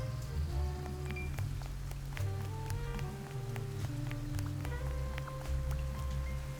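Steady rain hiss in the video game Duck Detective: The Secret Salami, a continuous wash of patter with faint drip ticks, layered over a low sustained musical drone and soft melodic tones, with no voices.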